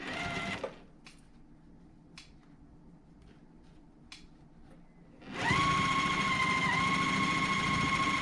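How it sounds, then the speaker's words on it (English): A sewing machine stitches a full quilt seam for a block-of-the-month quilt, starting after quiet handling taps and running as a loud, steady mechanical whir through the final three seconds. "I'm going to line those up and we'll stitch that whole seam"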